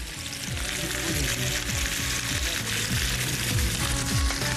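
Steady, dense sizzling of chicken frying skin-side down in a hot pan, continuous and close, with faint clinks and a voice murmuring underneath.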